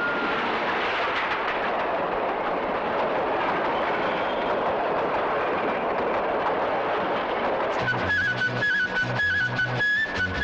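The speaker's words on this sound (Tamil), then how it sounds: "ரயில் வருது வேடிக்கை பார்த்துட்டு போ" A train passes close by in rural Tamil Nadu, rumbling loudly and steadily for several seconds, then a rhythmic clatter of wheels over rail joints takes over toward the end.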